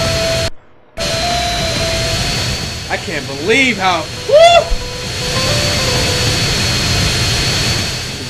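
A jet aircraft in GTA San Andreas roars with a steady, loud whine of jet engine, interrupted by a brief dropout near the start, while someone talks excitedly over it.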